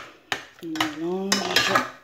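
A spoon stirs aloko (fried plantain) and fish in a pot, giving a few close metallic clinks and scrapes against the pot's side over about two seconds.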